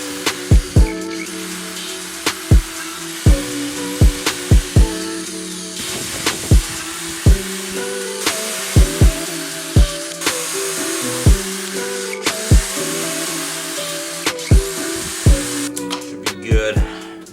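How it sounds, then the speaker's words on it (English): A power drill bores holes through new side splitters for a car, a steady whining drone broken by sharp, evenly spaced clicks roughly every second, close and fairly loud, with no talking. "I'm just gonna drill the holes now"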